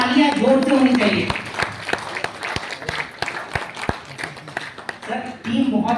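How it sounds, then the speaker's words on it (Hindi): An audience at an AWPL product-information talk breaks into clapping: a burst of sharp, close hand claps in the middle, with someone speaking before and after it. "फटाफट तालियां जोर से होनी चाहिए।"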